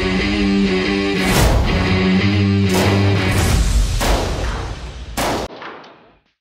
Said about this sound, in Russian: Уникальная схема со смещенным импульсом отдачи позволяет этому автомату делать очередь из двух выстрелов так быстро, что глаз не успевает это заметить.